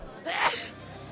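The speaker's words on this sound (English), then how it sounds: "Got to sneeze at the table." A single short sneeze from a player at the poker table in the Wii game WSOP Tournament of Champions, heard once and fairly faint.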